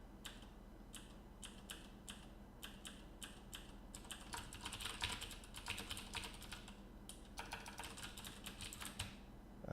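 Rapid computer keyboard typing in bursts of quick clicks with brief pauses, close and steady over a low background hum, no voices.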